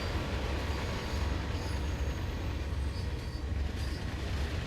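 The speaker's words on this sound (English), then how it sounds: "I can hear a train. It sounds like an 87. And it's freight." A Class 87 electric locomotive hauling freight in Train Sim World 5 rumbles past as a steady, continuous low roar of rolling wagons, sustained and even throughout with no voices.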